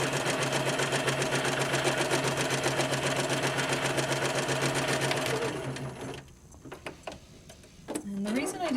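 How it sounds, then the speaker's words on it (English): A Spiegel 60609 sewing machine stitches a second gathering row in fabric with a fast, steady mechanical chatter close up, then stops, leaving quiet handling noises. "I'm going to put another row just about 1/4 of an inch away from that row"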